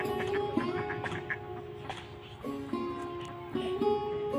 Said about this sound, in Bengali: পুকুরে হাঁস